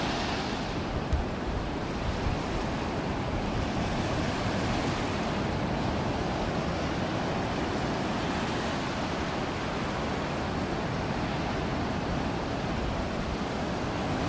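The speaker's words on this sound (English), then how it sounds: "You can see some of the waves." Ocean surf rolls steadily onto a beach on a morning walk, a continuous broad wash of breaking waves with wind rumbling across the microphone, no voices.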